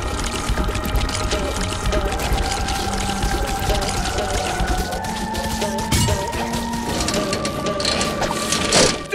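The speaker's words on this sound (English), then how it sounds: "One more douse with that stuff, and SpongeBob will be back in the ring" Cartoon liquid poured out to douse SpongeBob during a boxing-ring bout, a continuous splashing pour lasting several seconds, loud and up close amid busy background tones.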